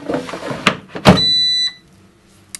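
Air fryer drawer holding potato wedges on a griddle pan slides in and shuts with a firm thunk, followed by a brief electronic beep tone and a small click afterward.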